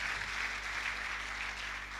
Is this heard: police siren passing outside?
no